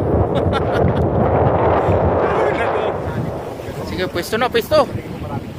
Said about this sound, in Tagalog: Lakas ng hangin. Maalon eh.